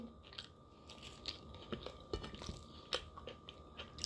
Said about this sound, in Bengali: এখন ঢেঁড়স ভাজি খাচ্ছি